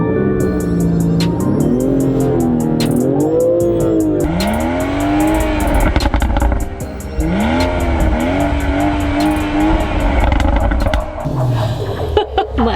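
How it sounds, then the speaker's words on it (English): A 2019 BMW X4 M40i engine is blipped repeatedly in close, loud bursts, with its pitch sweeping up and falling back several times before settling near the end. "let's give this engine a crank."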